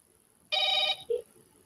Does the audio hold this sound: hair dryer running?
no